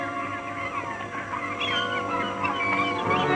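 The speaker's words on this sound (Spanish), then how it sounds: "las ruidosas y chillonas gaviotas" A noisy colony of screeching gulls on the Svalbard coast near sea level in July, harsh overlapping cries and cackles filling the air continuously at a fairly loud, close level.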